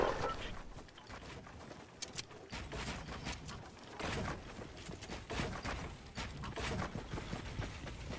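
Gunfire in Fortnite, with rapid bursts of shots and clattering weapon noise running throughout, fairly faint and dense.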